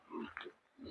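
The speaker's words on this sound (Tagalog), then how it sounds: "kukumustahin ang kanyang mga baboy." Pigs on a small farm give a few short, low grunts close by, soft and brief, with no talking over them.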